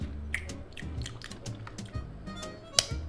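Someone chews a crunchy, spicy Thai snack up close, with repeated crisp bites and crackles in an uneven rhythm and a sharper crunch near the end.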